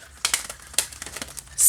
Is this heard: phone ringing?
no